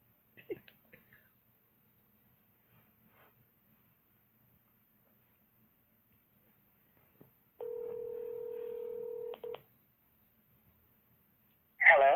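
A landline telephone's steady dial tone after a dropped call, followed by a brief burst of dialing beeps, in an otherwise quiet room with faint handling noises.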